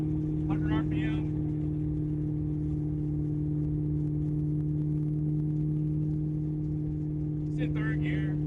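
A supercharged Ford Coyote V8 swapped into an SN95 Mustang holds a steady mid-pitched hum at about 2,500 RPM in third gear, with brief voices breaking in near the start and end.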